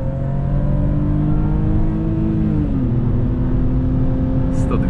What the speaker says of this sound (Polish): No auto bardzo ładnie, bardzo zdrowo się tu odpycha.